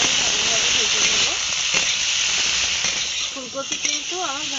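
Cauliflower frying in a pan with salt, turmeric and chili powder gives a steady, close hiss and sizzle, with light stirring clinks and a voice speaking over it.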